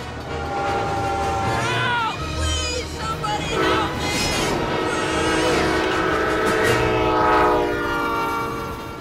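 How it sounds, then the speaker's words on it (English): A train rolls past on the tracks with a sustained rumble and a horn blast rising over it, loud and close throughout, while children's voices speak over the noise. "Is that a train?"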